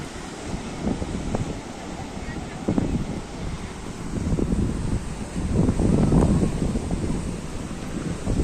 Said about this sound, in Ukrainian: дуже великий вітер